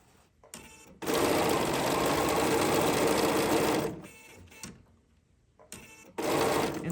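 Sewing machine stitching a zipper with an invisible zipper foot, running in one steady burst of about three seconds, then short stop-start bursts before another run near the end, close and clear.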